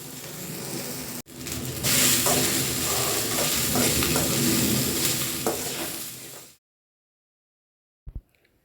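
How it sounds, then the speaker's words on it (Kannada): Cut okra frying in oil in a hot pan while being stirred, a loud, close, continuous sizzle with scraping strokes for several seconds, then sudden silence broken by a brief knock. "ಬಾಣಲಿ ಬಿಸಿ ಆದ ನಂತರ 1 ಟೇಬಲ್ ಸ್ಪೂನಷ್ಟು ಆಯಿಲನ್ನು ಹಾಕ್ಕೊಂಡು ನೀಟಾಗಿ ಲೋಳೆ ಹೋಗೋವರೆಗೂ ಅದನ್ನು ಚೆನ್ನಾಗಿ ಹುರ್ಕೊಳ್ಬೇಕಾಗುತ್ತೆ."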